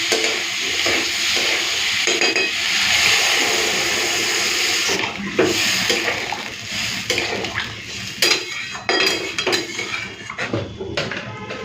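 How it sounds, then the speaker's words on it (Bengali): Water splashes and pours into a pan of cooking potato curry, a steady loud rush at first that gives way to clattering pan and spoon stirring sounds, with no talking. "এরপরে জল দিয়ে দেবো"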